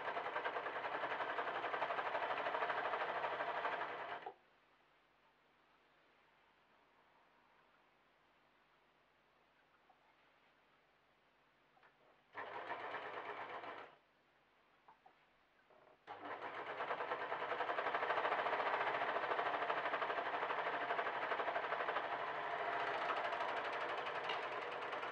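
A sewing machine stitches the shoulder seams of a patterned stretch jersey cotton dress, running in long steady bursts with quiet pauses between them, close and fairly loud with no talking.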